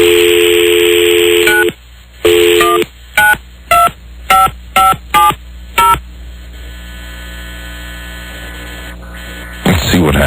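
A steady dial tone cuts off, then a string of short, evenly spaced touch-tone beeps as a number is keyed, followed by a faint hum.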